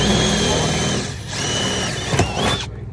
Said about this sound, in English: We're going to make 3 new holes all in the same pattern